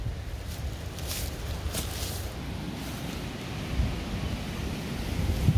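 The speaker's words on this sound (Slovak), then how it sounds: "skutočne dneska hodne, hodne fúka" Strong outdoor wind roars steadily into the microphone, a dense low rumble with gusty buffeting that swells toward the end, with no talk over it.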